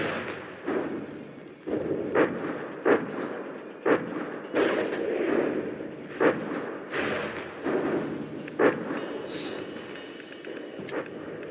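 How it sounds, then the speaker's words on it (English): Missiles striking the underside of a ship in From the Depths, a series of dull muffled thuds and impacts at irregular intervals of roughly a second, moderately loud over a steady low rumble. "Some missiles from below hitting the bottom."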